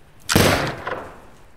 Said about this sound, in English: That was just a warning shot.